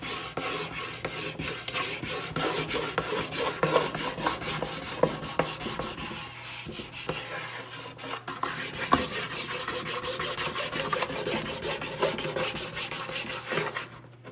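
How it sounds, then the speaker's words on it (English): Crumbly propolis is scrubbed against the inside of a wooden bait hive box, making a continuous close, rasping rub with rhythmic strokes throughout and no talking. "And so now I'm just going to scrub it on the inside of the box."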